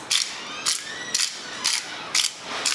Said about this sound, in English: I'm gonna get my black pepper, grind it in here